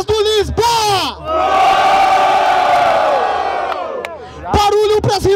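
At a rap battle, a crowd roars, cheers and shouts for a rapper in a sustained swell, bracketed by an emcee shouting over the noise before and after.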